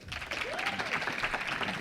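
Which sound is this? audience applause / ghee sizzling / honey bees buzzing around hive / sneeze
audience applause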